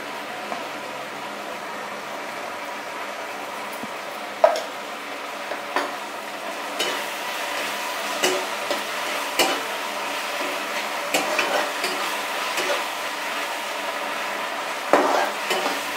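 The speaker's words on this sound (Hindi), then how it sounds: "इसमें डालेंगे पिसा हुआ पेस्ट।" Ground spice paste stirred and scraped in a hot pan of aloo gobi, with a soft steady sizzle and intermittent clicks and knocks of the spoon against the pan, close up with no voices.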